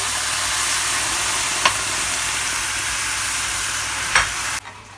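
White wine hits rice toasting in a pan for mushroom risotto, giving a continuous loud sizzle with a couple of sharp crackles. The sizzle ends abruptly just before the close.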